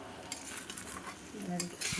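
A spoon stirs and mixes cooked pulao rice in a pot, giving soft scraping and clinking strokes at a steady pace, close and fairly quiet, with no one talking.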